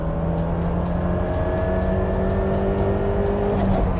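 A Lada Niva Bronto or Jeep Wrangler Rubicon launching from a standing start with slight wheelspin, its engine droning loud and steady close by at high revs, with a faint rhythmic pulsing through the upper range.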